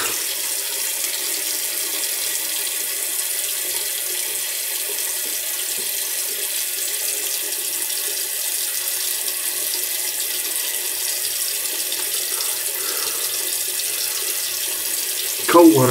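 Cold water pours continuously from a sink tap for a post-shave rinse, an even rushing hiss at close range that holds steady before a brief bump at the end.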